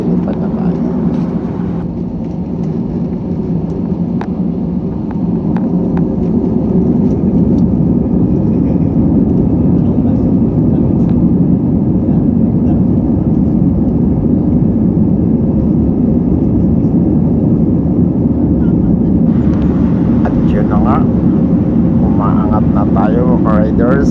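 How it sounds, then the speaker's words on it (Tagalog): Passenger airplane starting its takeoff run, a loud steady engine roar heard from inside the cabin that holds and builds for over twenty seconds, with a voice talking over it throughout. "start na ang take off"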